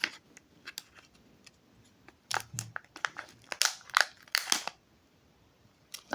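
Plastic wrapping of a Kinder Joy Stranger Things chocolate egg being torn and crinkled open, close-up crackles and rustles in irregular bursts with quiet gaps between.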